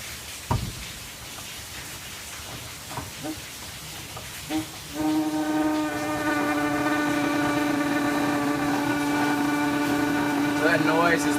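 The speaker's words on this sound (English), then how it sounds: "that noise is the pressure inside the keg building and actually carbonating your beverage" Gas running into a beverage keg through an opened valve as it pressurizes and carbonates the drink. A few faint clicks and handling noises give way to a steady hissing hum with a tonal whine, continuing close and even to the end.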